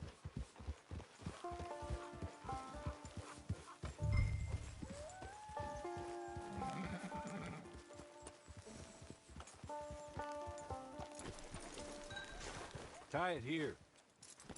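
Horse hooves clip-clop at a walking pace in the Red Dead western video game, soft rhythmic thuds under a man's spoken lines, with game music and a brief snort or whinny near the end.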